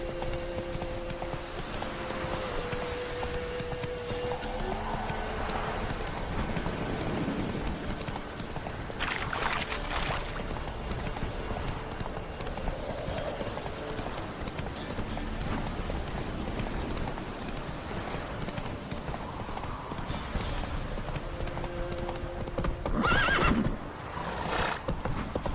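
Roach the horse in The Witcher 3 whinnies and neighs amid steady clip-clop of hooves, layered over continuous game ambience and music, with a louder burst of activity near the end.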